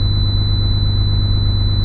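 A road train truck's engine idles steadily, a loud, constant low rumble with no break and no voices.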